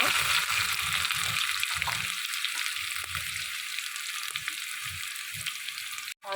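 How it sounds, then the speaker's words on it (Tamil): Sliced onions fry in hot sesame oil in a kadai over a wood-fired stove, giving a steady close sizzle broken by soft scraping and stirring knocks. "வெங்காயம் போட்டுக்கலாம்"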